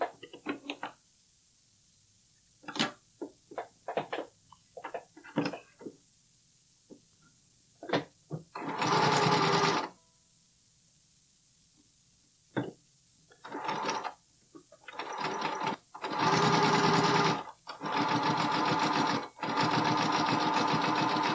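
Sewing machine stitching a bralette seam in short bursts and longer runs, some separated by clicks and handling knocks, louder sustained stitching toward the end with no voices.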